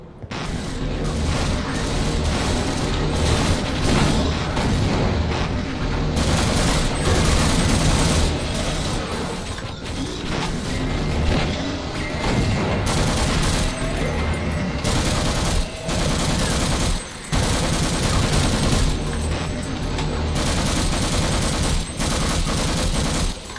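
Sustained automatic turret gunfire in the game Half-Life: Insecure, a loud, dense stream of rapid shots mixed with booms and mechanical clatter, broken by a few brief pauses.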